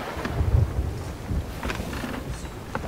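A sailing ship cuts through open sea in Sea of Thieves with a storm nearby, giving a low rushing wash of water and wind with a few brief creaks and splashes, fairly quiet throughout.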